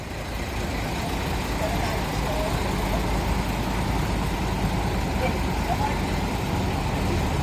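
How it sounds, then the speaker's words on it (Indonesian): A small bus marked Wonosari passes on a road, its engine and tyre noise forming a steady, loud rumble that fills the whole stretch, with people talking over it. "Ada bis cilik."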